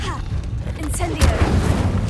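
Incendio fire spell from the Hogwarts Legacy video game, a mid-loud whooshing burst with a low boom that swells into crackling roar over steady in-game ambience.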